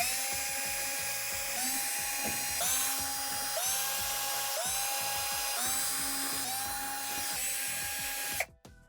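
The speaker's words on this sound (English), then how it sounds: "Then we're going to go ahead and remove all the Torx screws around the perimeter of the back panel." A power drill backs out Torx screws around the perimeter of a Swash by Whirlpool dishwasher's back panel, whirring loudly in repeated bursts with pitch dips as each screw releases, then stopping abruptly.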